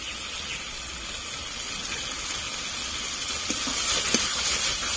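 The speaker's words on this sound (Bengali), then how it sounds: "ভালো করে মশলাটা কষে নেব।" Spice paste of Kashmiri red chilli and coriander powder sizzles steadily in a pan for village-style country chicken cooked over coal, a continuous close frying hiss with faint stirring scrapes near the end.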